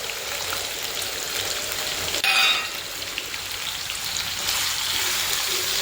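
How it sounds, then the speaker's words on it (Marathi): Finely chopped potato goes into hot oil already seasoned with asafoetida, sending up a steady, close sizzle and crackle with a brief sharper burst partway through; no one talks over it. "त्यानंतर त्यामध्ये आपण ह्याप्रमाणे बारीक चिरलेला बटाटा घालायचा"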